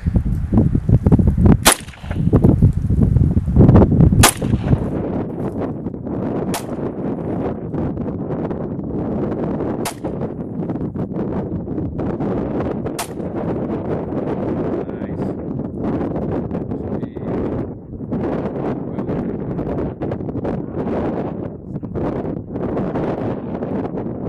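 Glock 23 pistol fired outdoors in the wilderness: a few loud, sharp shots come early, followed by several more spaced single cracks over steady wind buffeting the microphone.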